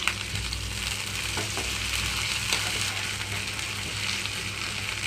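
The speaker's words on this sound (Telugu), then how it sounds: "అల్లం వెల్లుల్లి పేస్ట్ కొంచెం వేగిపోవాలి" Ginger garlic paste fries with softened onions in oil for onion egg fried rice, a continuous close sizzle and crackle with occasional stirring clicks over a low hum, and no voices.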